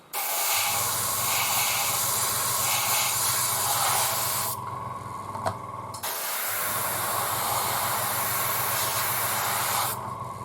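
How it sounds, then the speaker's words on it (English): Airbrush spraying paint onto a 1:35 scale KV-1 model tank, a loud continuous hiss that cuts out briefly midway and then resumes. "Now I'm going to put this in angle, my airbrush, because I just want to go around."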